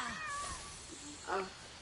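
A cat in Monster Hunter World lets out a brief high meow, faint and somewhat distant under a steady wash of game background noise.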